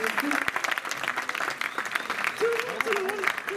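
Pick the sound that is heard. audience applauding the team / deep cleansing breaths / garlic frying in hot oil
audience applauding the team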